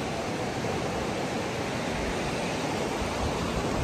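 River water flows by a lake in Guatemala, a steady, dense rushing wash with no breaks, close and continuous throughout.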